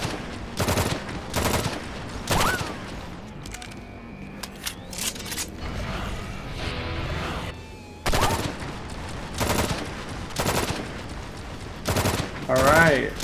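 Repeated bursts of automatic gunfire in the Drawn to Death shooter game, loud and close, rattling in short volleys separated by brief gaps with quieter game effects in between.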